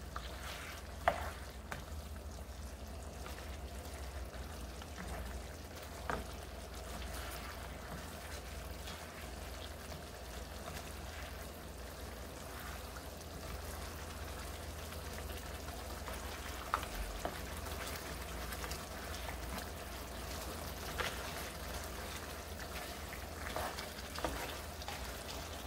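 Braised pork rib sauce reduces in a pan over high heat, giving a steady, even sizzle and bubbling with faint crackles throughout, close and continuous with no talking.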